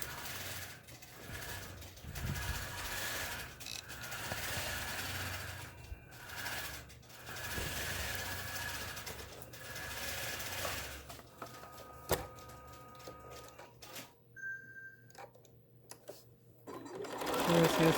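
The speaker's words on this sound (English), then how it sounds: "I'm just going to sew down this line." Sewing machine stitching quilt block squares, a steady mechanical whir that runs in bursts with short pauses, close and moderately loud, with a quieter stretch of clicks and handling sounds near the end.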